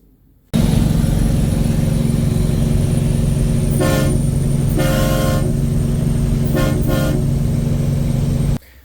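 Loud, close train air horns on a Peterbilt truck sound in several short bursts over a constant engine drone, the pattern repeating.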